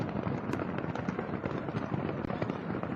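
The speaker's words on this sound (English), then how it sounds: "This entire area was completely wiped out by a massive explosion." Fireworks going off in the explosion at the Huasheng fireworks factory: a faint, distant, continuous crackle of rapid overlapping pops and bursts.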